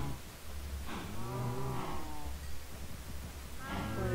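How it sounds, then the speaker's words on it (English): Cows in Minecraft moo several times in short, drawn-out lowing calls spaced a second or so apart, fairly clear over a soft background hum. "Now let's get the wheat and feed those hungry cows"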